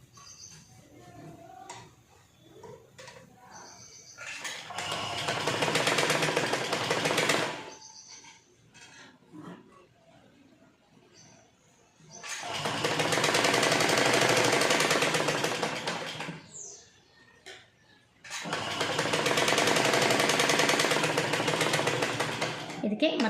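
A sewing machine stitching a prince cut blouse runs in three loud, close bursts of rapid whirring rattle, each several seconds long, separated by quieter gaps where a voice talks over fabric handling.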